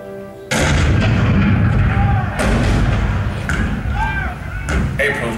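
Cannon fire at Fort Sumter in 1861 rings out as several heavy, loud booms spaced a couple of seconds apart, each rolling into a dense rumble over a low background.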